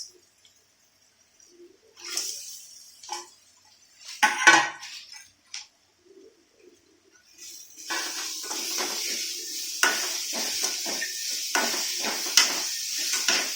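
Fried mushrooms tossed in a pan, with scattered metallic clinks and knocks of utensils at first, then a continuous sizzle with repeated scraping and stirring strokes; no one speaks.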